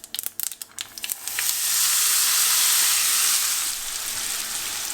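A curry mixture for courgette and split chickpea curry hits a hot pan with asafoetida, giving a few quick clatters and then a loud, steady sizzling hiss that eases slightly near the end.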